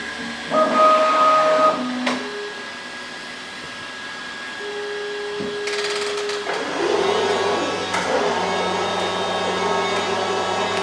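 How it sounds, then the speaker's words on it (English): Bambu Lab X1 Carbon 3D printer whirring as it pulls filament back out of the print head toward the spool, a steady mechanical hum with motor tones shifting partway through, close and moderately loud with no talking. "And then it retracts the filament back out of the head and back up into the spool."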